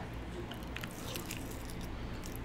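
Someone bites and chews Wingstop lemon garlic chicken wings up close, with soft wet crunching and mouth sounds over a steady background, and nobody talks.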